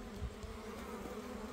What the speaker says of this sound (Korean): 벌은 토종벌이죠.